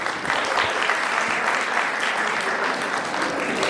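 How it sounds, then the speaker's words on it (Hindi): A crowd at the 2023 Basant Panchami fair at Kanvashram in Uttarakhand gives a welcoming round of applause, a dense, continuous wash of clapping that stays loud and even from start to finish, with no speech over it. "ताली से आपका स्वागत करेंगे"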